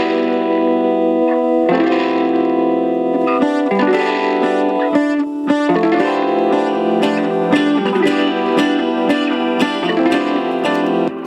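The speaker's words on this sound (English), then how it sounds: "So I created these chords with multiple guitars that sound like" Open two-chord progression built from several layered guitars with chorus and reverb, ringing out loud and sustained as the chords change, with no talk over them.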